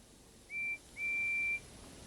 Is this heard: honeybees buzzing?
no